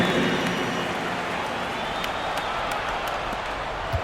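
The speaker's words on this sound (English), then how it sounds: "Let's give a big round of applause to your Lakers youth dance team." A large crowd at a Timberwolves versus Lakers basketball game applauds in a broad, steady wash of clapping and cheering that holds at an even level throughout.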